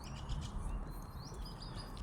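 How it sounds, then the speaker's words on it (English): Birds in a city park chirping and tweeting in quick scattered calls over a soft background hum. "There are a lot of birds singing in the park."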